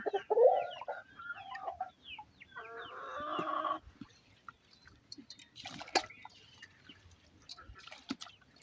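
Ducklings kept in a container nearby give bursts of close, shrill peeping and chirping calls, busy at first, then scattered calls mixed with small knocks and rustles.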